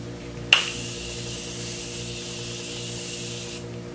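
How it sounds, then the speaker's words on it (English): A single continuous spray from a Morphe Continuous Setting Spray mist bottle, a steady hiss lasting about three seconds, close and clear against a quiet room. "I'm using the Morphe Continuous Setting Spray"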